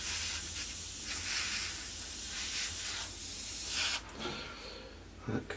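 An aerosol can sprays paint onto a 1/48 scale P-51D Mustang model part in a continuous hiss for about four seconds, then stops, followed by a few light knocks.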